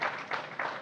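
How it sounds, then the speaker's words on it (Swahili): Applause in a parliamentary chamber after a member's oath, a short burst of soft, moderately distant clapping with a few swelling pulses. "makofi"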